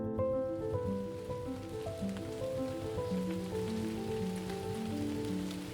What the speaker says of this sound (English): the haze of rain falling steadily through the spring night